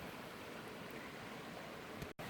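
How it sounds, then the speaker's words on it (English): Winifred Falls in an Australian national park on Port Hacking's South West Arm: a steady, faint wash of falling water rushing continuously with no pauses, broken only by a brief dropout near the end. "Can really hear some waterfall behind me."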